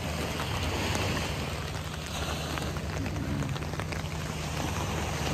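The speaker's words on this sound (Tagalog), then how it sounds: "pag ganitong klase ng ulan, yung parang patak-patak lang, matagal pong tumigil to" Light drizzle pattering steadily on a surface at a beach in Saipan, a soft continuous hiss with a low hum underneath, no voices.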